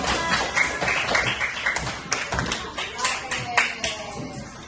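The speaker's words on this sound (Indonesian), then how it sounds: "Tepuk tangan untuk pacarnya." A school class claps hands together in a religion lesson, scattered and uneven claps of varying loudness rather than one unified burst, heard close in a room with a teacher's voice around them.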